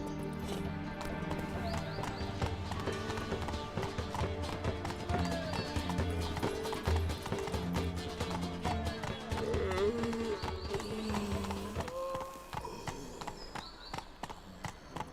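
Hooves clip-clop in a fast, steady gallop as a horse runs in The Witcher 3 video game, mixed with game music and ambience, fairly close throughout.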